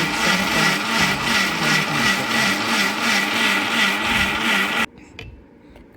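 A mixer grinder grinding spicy chutney whirs loudly and steadily with a pulsing hum for several seconds, then stops abruptly, leaving faint clicks and quiet rattling.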